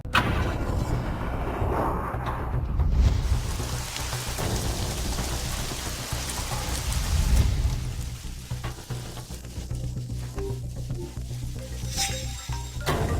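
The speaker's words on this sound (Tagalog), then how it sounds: "Kuya Hanchu, kumukulog na." Heavy rain pours steadily, with deep rolls of thunder swelling and fading beneath it. No voices are heard.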